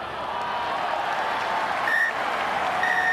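Rugby stadium crowd at a Japan versus Argentina match applauding a try, a steady, distant wash of clapping and crowd noise that holds evenly throughout, with faint whistles near the end.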